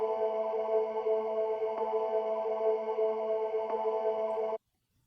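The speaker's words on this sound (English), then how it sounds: "So I added a vocal drone" Vocal drone in a deep house track: one steady, sustained, buzzy tone that holds unchanged for several seconds with two faint clicks, then stops abruptly.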